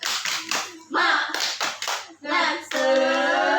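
A school class claps in unison in a rhythmic spirit chant, bursts of sharp hand claps alternating with children and a teacher chanting, close and fairly loud.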